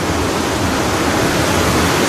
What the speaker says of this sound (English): you know it's raining